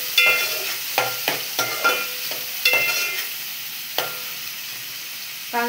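Chopped onion fries in hot oil in a pan, the first step of an Agri-Koli style crab curry: a steady sizzle broken by about a dozen scraping stirs, close and clear, with no talking.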